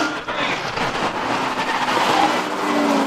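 A Camaro running hard around a track during spectator drag racing, a continuous loud engine roar and road noise heard from a distance.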